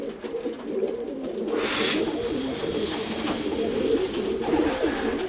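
Young racing pigeons coo in soft, throaty, repeated calls close by, overlapping in a continuous murmur with light rustling in the loft.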